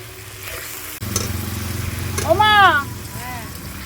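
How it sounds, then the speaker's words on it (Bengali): Spice paste of ground garam masala and cumin frying with chopped tomatoes for a rohu fish curry, a steady sizzle with stirring scrapes, overlaid by a nearby bird chirping near the end. "কেটে রাখা টমেটো দিয়ে দেব এবার মশলাটাকে আমি ভালো করে নাড়াচাড়া করে ভেজে নেবো"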